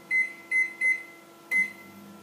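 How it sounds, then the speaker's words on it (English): A microwave oven beeps four times, three short tones in quick succession, then a pause and a fourth, clear and close over a faint hum. "you better get your microwave ready"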